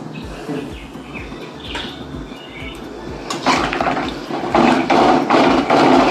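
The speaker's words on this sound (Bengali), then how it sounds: "বন্ধুরা ঝোলে জল দিয়ে দিলাম" Water is poured into a simmering egg curry for egg chowmein: low bubbling and clinks at first, then a louder rushing, splashing pour that builds toward the end.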